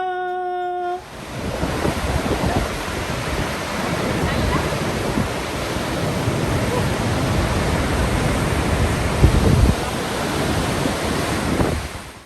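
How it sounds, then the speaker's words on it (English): A steady, loud roar of a waterfall fills the scene, constant rushing water with wind buffeting the microphone throughout. "Oh, here comes the waterfall."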